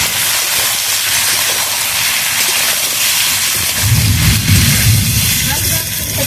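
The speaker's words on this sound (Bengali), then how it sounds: "তেলের মধ্যে ভালোভাবে ভেজে নেব" Elephant foot yam and potato pieces fry in oil, a loud, close, steady hissing sizzle that fills the clip, with a heavier rumbling surge of frying near the end and no talk.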